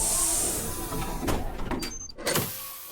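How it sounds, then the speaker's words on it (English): A door shutting with a thud followed by the clack of a lock being turned, heard indoors in a radio drama office scene, moderately close, with brief rattling handling sounds around it. "The door. I locked it so we won't be disturbed."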